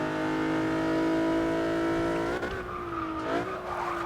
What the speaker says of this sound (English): Oh, this engine sounds wonderful.